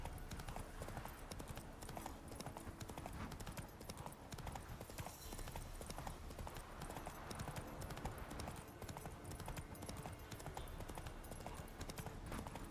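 Rhythmic hoofbeats of a horse galloping in The Witcher 3, steady fast clip-clop running the whole time, close and continuous over a dense game soundscape, with a brief whinny possible.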